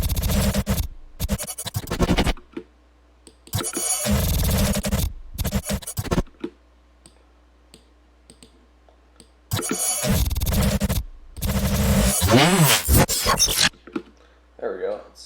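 Glitchy electronic sound effects come in rhythmic bursts, harsh and scratchy stuttered textures separated by silent gaps, loud and close.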